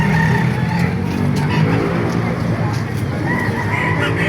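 A rooster crows amid a busy chicken market in Baliuag, the call riding over steady crowd noise and clucking fowl, with other market sounds continuous in the background.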